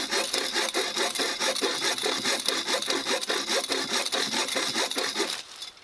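A light hand saw cuts a piece of wood in half at a bushcraft camp, with quick, close, rhythmic rasping strokes that run evenly for several seconds, then stop abruptly.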